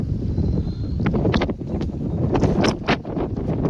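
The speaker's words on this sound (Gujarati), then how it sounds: "પવન જોરદાર ચડી ગયો હે." Strong wind on farmland buffets the microphone in loud, rumbling gusts, with brief rustling bursts rising and falling throughout.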